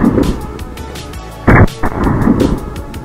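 A single sharp blast from a 454 Casull revolver, loud and close, bursting out cleanly and followed by a shorter echo or second report amid outdoor background noise.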